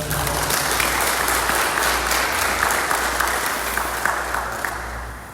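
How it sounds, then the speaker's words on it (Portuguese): Broad, sustained applause from a church congregation during a sermon, a thick wash of many hands at an even level, tapering slightly toward the end, with no speech over it. "Um aplauso, Senhor."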